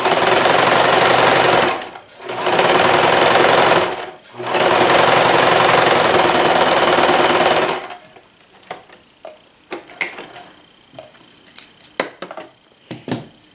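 A sewing machine stitching a straight seam on fabric runs loud and close in three steady whirring bursts separated by short pauses, then stops, leaving faint clicks and handling of cloth.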